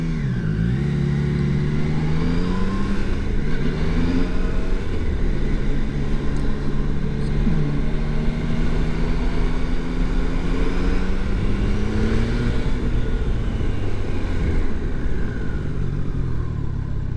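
Engine of a Triumph Tiger Sport 660 three-cylinder motorcycle, loud and steady throughout with rising and falling pitch as it accelerates hard, plus wind roar from riding; no talk.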